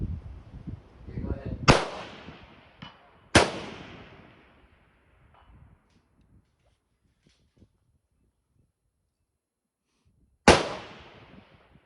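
L42A1 Enfield rifle firing at an outdoor range: three loud, sharp shots, two in quick succession and a third after a long quiet gap, each followed by a short echo.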